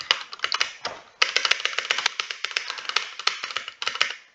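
Rapid, close clicking of computer keyboard keys during a Stumble Guys session, dense bursts of taps with a short gap near the start, no talking.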